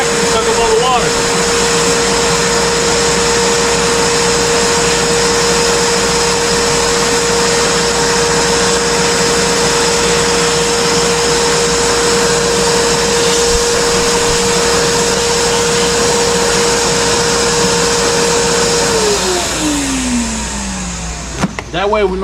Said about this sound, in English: You let the vacuum suck up all the water.